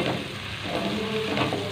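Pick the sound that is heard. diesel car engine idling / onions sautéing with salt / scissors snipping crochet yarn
onions sautéing with salt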